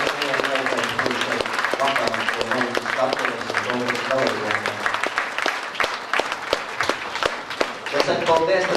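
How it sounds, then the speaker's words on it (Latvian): A crowd at a beauty pageant claps steadily throughout with dense, sharp hand claps, while a voice carries on talking underneath. "Arī aplausu viņiem."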